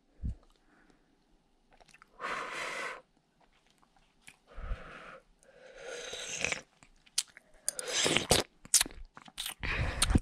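Close, quiet ASMR eating of noodle soup, with several separate bursts of chewing and slurping bites spaced by short pauses, growing busier toward the end.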